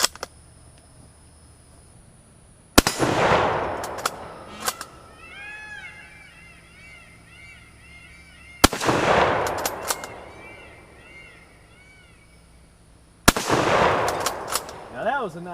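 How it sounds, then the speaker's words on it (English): A Mosin rifle fires three loud, sharp shots outdoors at a rock, each crack followed by a long rolling echo, spaced several seconds apart. "Now that was a nice shot. Took more than one shot, but we managed to break that rock over there."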